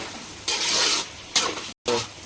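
Beef curry pieces coated in masala powder are stirred in a pan, producing bursts of hissing, scraping sizzle with brief pauses between strokes.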